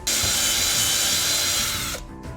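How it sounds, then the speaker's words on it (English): Power drill boring out a button hole in a lightsaber prop hilt, one loud close whine held for about two seconds before it cuts off abruptly. "Last thing I need to do for assembly is drill out the hole there that's for the button."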